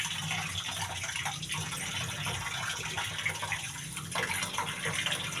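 Tap water runs steadily into a pot of rice for washing, a continuous soft gush that stays fairly faint from start to end, with no talk over it.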